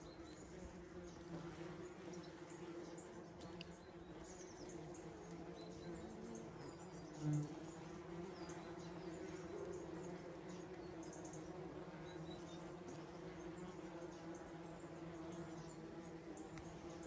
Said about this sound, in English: the wasps were attacking like crazy